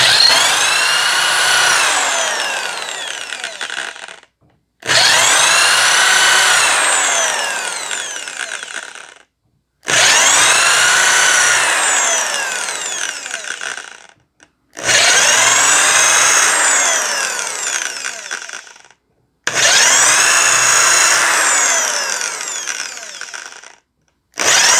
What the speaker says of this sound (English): So that's what I'm doing with this last drill bit.